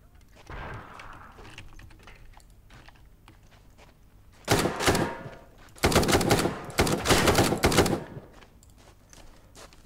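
Ground Branch tactical shooter combat: an early muffled thump from a flashbang grenade, then loud, close bursts of automatic gunfire in several rapid volleys.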